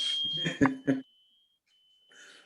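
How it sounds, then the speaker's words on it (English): A thin, high-pitched smoke alarm sounds steadily in the background, set off by ribs roasting in an oven, faint and continuous beneath a few sharp clatters and a voice. "My smoke alarm just went off."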